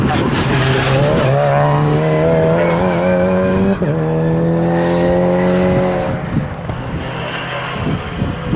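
Aston Martin GT race cars, including a Vulcan and V8 Vantage GT2, out on track at Snetterton, loud engine roar with rising and falling revs as cars pass close, a commentator talking over it.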